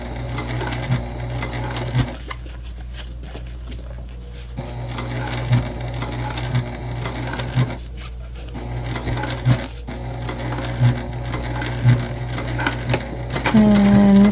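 A sewing machine stitching a sling bag pocket hums steadily, punctuated by regular light clicks at even intervals, close and fairly loud, with a brief higher whir at the very end.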